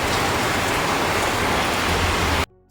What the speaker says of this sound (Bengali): মুসলধারা বৃষ্টি